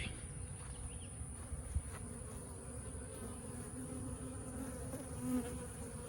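A steady, low hum of many bees buzzing close by, continuous and fairly quiet, with no voices.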